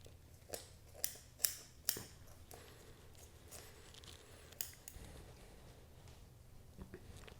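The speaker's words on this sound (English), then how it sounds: "So we would just cut right at the wrist joint and start cutting all this meat right out." Curved scissors snip through meat at the wrist joint of a wood duck wing being skinned, a few quick sharp cuts close up, then scattered quieter clicks and rustles.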